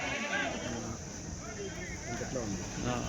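Sheep bleat repeatedly amid a steady outdoor hum at the weekly sheep and goat market in Kadiri, with people bargaining over the animals throughout.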